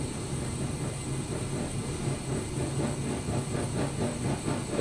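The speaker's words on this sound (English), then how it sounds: "The flame is popping." A devil-forge gas burner (DFP, DFC or DFM type) runs with its air choke opened too far, giving a steady roaring hiss with irregular popping flutter throughout, close and fairly loud, with no talk.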